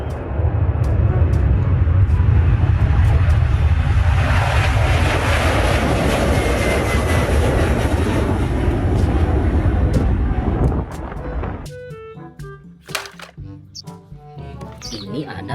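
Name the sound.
airplane flying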